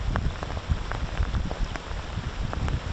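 Steady Oregon rain in late fall or winter, a constant close patter of drops on surfaces with no voices.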